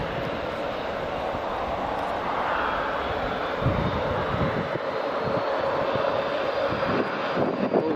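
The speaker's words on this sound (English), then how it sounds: "British Airways is taxiing as well" A British Airways airliner taxiing at Edinburgh Airport on a summer evening, a steady distant engine roar with a broad rushing hiss that swells slightly midway, heard outdoors with no one speaking.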